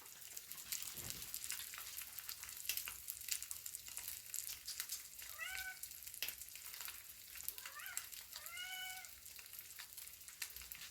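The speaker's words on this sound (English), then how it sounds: "You can hear my cat going crazy." A cat meows several times in short bursts over steady sizzling and clattering kitchen noise, fairly close but quieter than the background.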